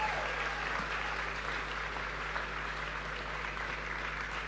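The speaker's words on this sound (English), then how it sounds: "I think you can give the Prime Minister a round of applause." Audience at an annual party conference applauding the Prime Minister of Barbados, a dense, sustained wash of clapping from a large crowd that holds steady throughout.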